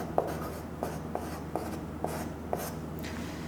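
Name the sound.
writing on a board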